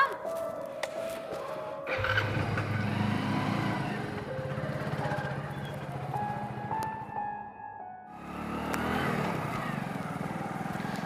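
A motorcycle is ridden along a rural road, its engine putting steadily with rising and falling revs and a brief lull before picking up again, close and loud throughout.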